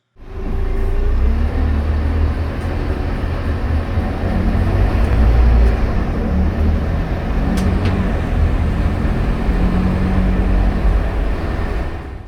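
Steady low engine drone and road rumble inside a Scania K280UB with a Bustech VSTM body, a short bus on a State Transit 313 route, continuous and fairly loud throughout with no voices.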